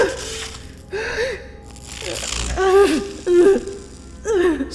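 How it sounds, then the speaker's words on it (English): A young woman gasps and groans in agony, sharp strained cries and pained moans repeating in short bursts, voiced close and loud over a faint background. "gasped and groaned in agony with every shock"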